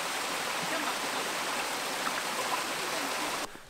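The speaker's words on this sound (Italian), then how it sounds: "si sente già il rumore dell'acqua" Water from Sa Spendula waterfall in Sardinia pours in a steady, dense roar and holds constant until it drops away abruptly near the end.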